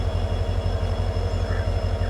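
A diesel passenger train starting to pull out of Kulukkallur station gives a loud, close, rumbling engine drone with a steady low throb throughout.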